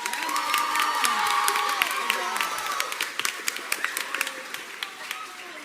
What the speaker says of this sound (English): another round of applause for Michael Heatherly?